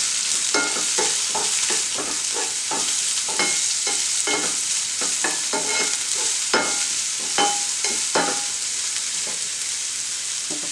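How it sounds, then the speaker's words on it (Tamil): Chopped onions frying in a pan for a fish curry, a steady sizzle beneath repeated scraping and stirring strokes of a spoon, close and continuous with no talk. "வெங்காயம் ரொம்ப வதங்க வேணாம்."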